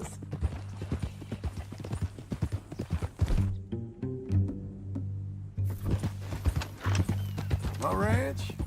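Horse hooves clip-clop at a steady walking rhythm in Red Dead Redemption 2, with a whinny and ongoing character dialogue over the hoofbeats, briefly paused midway.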